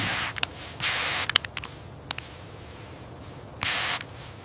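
Short bursts of hissing iodine spray on sheep, two longer sprays and a few brief spritzes, close by with no talking.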